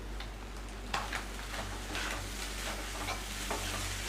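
Vegetables and egg stir-fried for egg noodles crackle in the pan, with several distinct scraping strokes of the spatula over a continuous low sizzle.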